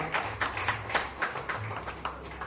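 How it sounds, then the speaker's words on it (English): Audience applause at a jewellery store grand opening, uneven close clapping from a small group with individual claps audible, moderately quiet and without talk over it. "Can we have a huge round of applause?"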